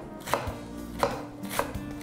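A knife chops white cabbage on a cutting board with four crisp, evenly spaced strikes. Each is close and distinct, with a quiet kitchen background and no talking.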